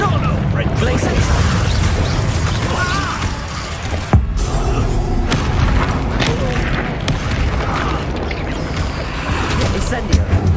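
The Incendio fire spell in Hogwarts Legacy bursts with heavy booms and crackling impacts amid a noisy, chaotic duel, with shouting voices mixed throughout.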